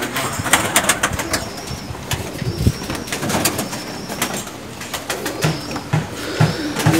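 Pigeons cooing close by, mixed with scattered sharp clicks and knocks and a few faint high chirps, with occasional wing flutters over a busy background.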